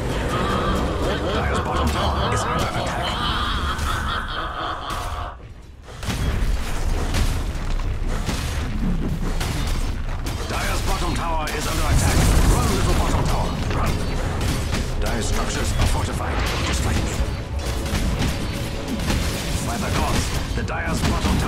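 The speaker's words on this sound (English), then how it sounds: "Dire's bottom tower is under attack." Dota 2 battle as the Dire's bottom tower comes under attack, with booming impacts, clashing mechanical hits and bursts layered over constant game noise, while a voice speaks over it.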